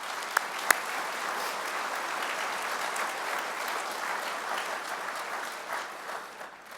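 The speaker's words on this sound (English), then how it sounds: "Let's give them a round of applause." An audience at a city's State of the City address claps in sustained applause, a dense even patter of many hands that fades slightly near the end, with a couple of sharp louder claps early on.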